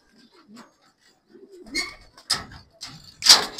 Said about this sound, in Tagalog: Papakain na tayo mga kalapati,